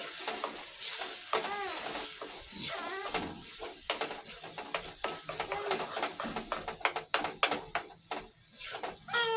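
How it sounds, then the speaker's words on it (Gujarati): Boiled brinjal for Kathiyawadi ringan bharthu being stirred and fried in a pan, with steady close sizzling and a run of sharp scraping, clattering spoon strokes growing denser toward the end. "થોડી વાર હલાવી હલાવવાનું બરાબરનું"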